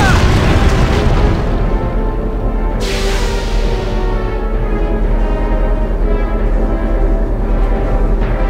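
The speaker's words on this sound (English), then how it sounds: "That main cannon is lethal." Heavy, sustained booms of a tank's main cannon firing in the Valkyria Chronicles video game, loud and continuous with a sharp burst near three seconds and rumbling low end throughout.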